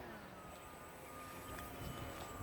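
An E-flite Apprentice S 15e electric RC plane on a 3200 mAh 3S battery drones at full throttle overhead, a faint, steady distant motor whine.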